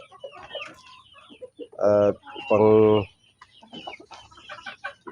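Two loud, drawn-out calls from chickens close by, with quieter clucking and a person talking in the background around them.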